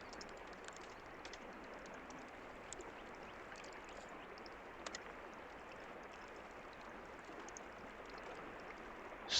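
A waterfall in the video game Sons of the Forest gives off a faint, steady broadband rush of falling water that goes on without a break.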